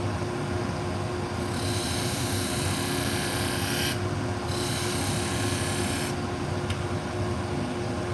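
Pet grooming shears being sharpened on a machine, a steady abrasive rasp with a constant low hum beneath, the bright grinding hiss dropping out briefly twice as the blade is lifted away.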